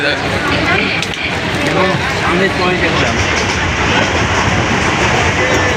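Steady rumbling rush of a local train from Howrah to Puri running on tracks, loud and continuous throughout, with faint rattling and a busy mix of background noise.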